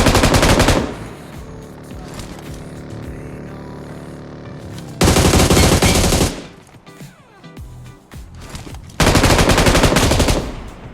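Gunfire in the mobile battle royale game BGMI: loud, sustained automatic bursts that start and stop, with a quieter stretch of distant shots and ambient sound between the bursts.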